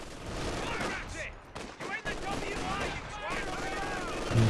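Rapid machine-gun bursts in a Company of Heroes 2 one-versus-one match, loud, close battle fire mixed with in-game unit voices.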